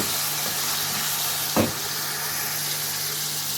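Chicken karahi with a pinch of turmeric sizzles steadily in a hot pan, a constant loud frying hiss with a brief stir or scrape near the middle.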